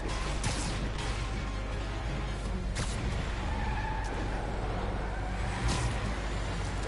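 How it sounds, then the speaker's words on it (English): A truck races along in Marvel's Spider-Man on PS4, with a dense steady roar of engine and road noise and a few sharp hits over it. "Truck is actually surprisingly fast."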